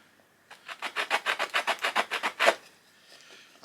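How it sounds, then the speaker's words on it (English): Rhythmic rasping strokes, about a dozen back-and-forth scrapes of a stone blade sawing into wood, steady and close, then stopping. "I can create that notch. It's more of a sawing motion."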